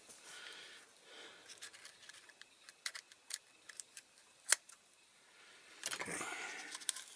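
Scissors snipping through material during restoration of a Corgi Toys Massey Ferguson 50B die-cast model tractor: a scattered series of sharp close clicks and snips, with a longer rustling cut near the end.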